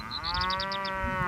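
An ox lows in one long, loud, steady moo close by, with a faint rhythmic chirping of birds or insects running above it.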